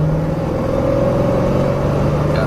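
A truck with a misfiring number 3 cylinder and a troublesome rear end drives along, its engine a steady, loud, close rumble with a low droning hum and no voices.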